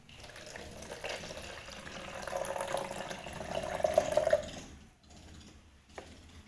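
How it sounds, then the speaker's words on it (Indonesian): Water sloshes and splashes steadily as fish are put into a container of water with ice in a lab practical, rising in the middle before easing off, close by with no talk. "Selanjutnya kita akan masukkan ikan ini ke dalam air yang kita tambahkan dengan batu es."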